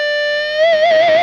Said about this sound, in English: That's more distortion than you're ever gonna need in your entire life.